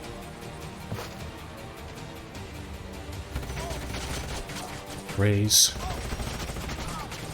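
Gunfire in the turn-based strategy game Age of Wonders: Planetfall: a dense, steady wash of battle shooting with a louder burst near the end, heard under a voice speaking.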